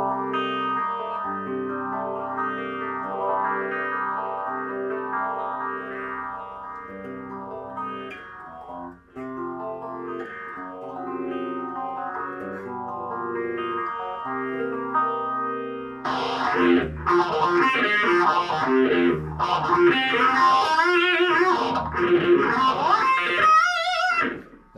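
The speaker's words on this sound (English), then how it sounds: "It's a very organic sounding phase shifter" An electric guitar plays through a vintage Gibson 2x12 100-watt amp with a built-in phaser, giving a sweeping, swirling tone. Partway through, a distortion pedal kicks in and the playing turns louder, brighter and grittier.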